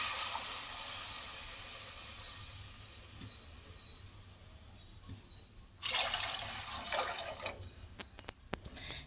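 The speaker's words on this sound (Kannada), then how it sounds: "ಇದಕ್ಕೆ ನೀರು ಹಾಕೋತಾ ಇದ್ದೀನಿ." A steady rushing pour fills the first half, fades, then returns as a bright splashing stream of water hitting a pot of fried khichdi rice, with a few clinks near the end.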